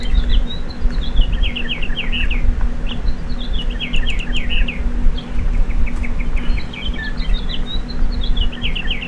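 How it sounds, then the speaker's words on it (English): Birds chirp in the video game Syberia, repeated bright trilling calls in bursts over a steady low outdoor ambience, fairly loud and close, with no one speaking. "All those birds."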